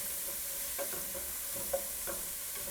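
Vegetables sweat gently in a pan over a medium-low flame, a soft, steady hiss with a few faint stirring scrapes, quiet and continuous with no talking.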